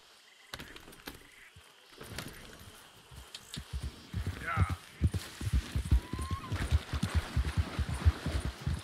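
A white horse in Red Dead Redemption 2 trots in a steady, close clip-clop of hooves that grows louder and quicker as it picks up pace, with someone talking over it.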